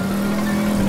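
A motorcycle engine in the game Teardown drones at a steady high-idle rev, a constant buzzing hum filling the short moment without speech.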